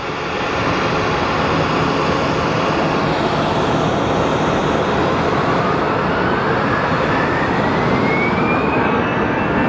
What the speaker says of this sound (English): Now we have our American Airlines that's off to Denver.